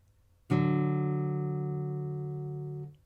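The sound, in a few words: musical interval, two notes played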